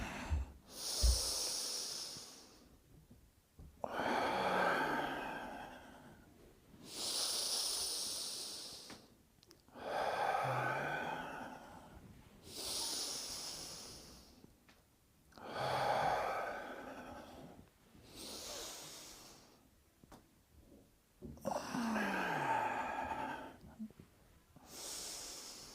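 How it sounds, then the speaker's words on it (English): Deep, slow breathing in and out during an evening Taiji class, long audible inhales and exhales repeating in a steady rhythm about every three seconds, close and moderately loud with no talk over it. "breathing in all the way up and breathing out all the way down"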